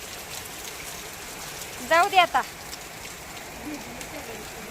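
Steady rain falls in an even, close hiss, and someone speaks briefly over it.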